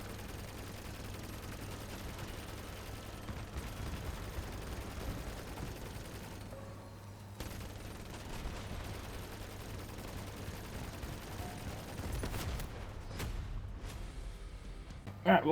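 MG14 Arbiter minigun in the vehicle combat game Crossout, a steady dense stream of gunfire with a constant low drone underneath, continuing throughout with a few sharper bursts near the end.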